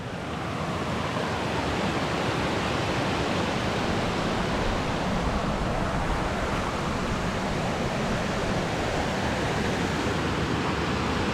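A small stream pours over a waterfall in a continuous, broadband rushing roar, steady and close with no pauses, masking everything else.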